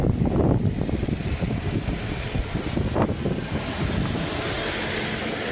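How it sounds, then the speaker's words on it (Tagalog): Strong wind in Iloilo roars and buffets the microphone continuously, with gusty rumbling throughout and no voices. "Malakas yung hangin."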